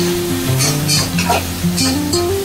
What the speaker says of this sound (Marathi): हे आपण करतो तोपर्यंत हलवत राहायला, म्हणजे खाली कांदा करपणार नाही